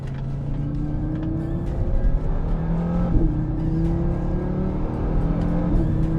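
A 2018 Audi RS3 with a five-cylinder engine pulls hard in dynamic mode, a steady droning engine note rising through gear changes, heard from inside the car with no talk.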